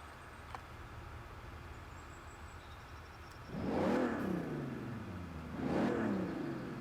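A Bentley Turbo R's V8 engine in Forza Horizon 4 revs twice, each a rising then falling roar, after a few seconds of quiet low hum.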